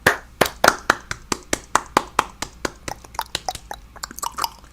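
A series of sharp hand claps, roughly evenly spaced and fairly close, about a dozen in quick succession, getting a little faster and lighter toward the end.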